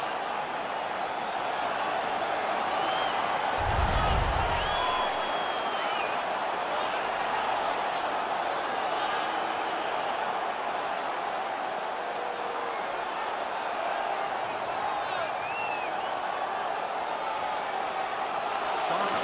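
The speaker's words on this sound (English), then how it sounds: "The crowd is ecstatic." A hockey arena crowd in the video game NHL 19, at a Western Conference Final Game 1 between the St. Louis Blues and the San Jose Sharks, roars ecstatically as a steady, dense wash of cheering that stays loud from start to finish.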